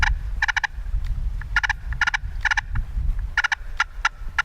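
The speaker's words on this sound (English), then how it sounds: "So here's what a purr is." Rapid, raspy purring bursts from a hand-worked turkey call come in short clustered rolls, close and fairly loud, with low rustling handling noise underneath.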